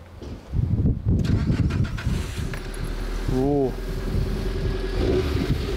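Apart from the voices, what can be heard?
Nissan Pulsar GTI-R turbo engine starting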